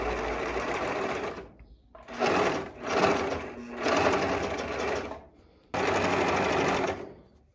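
A domestic sewing machine stitches panties in several loud, close bursts of fast, even mechanical whirring, separated by short pauses, with no voices.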